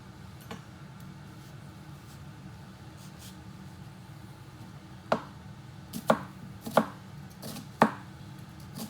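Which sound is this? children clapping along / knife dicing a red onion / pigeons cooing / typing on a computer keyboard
knife dicing a red onion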